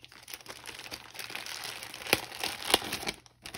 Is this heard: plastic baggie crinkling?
yes